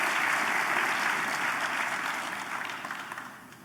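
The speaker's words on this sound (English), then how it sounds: "Give her a big round of applause." Audience applause fills a town hall, a dense, steady wash of clapping from a large crowd that holds strong before tapering slightly near the end, with no voices rising above it.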